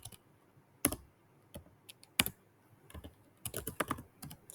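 Typing on a computer keyboard, sparse clicks with a few quick bursts of keystrokes and pauses between them, close and fairly quiet.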